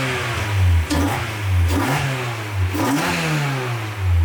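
The engine of a Japanese RC Peugeot 205 revs under a foot pedal, rising and falling in several loud, close surges over a buzzing idle.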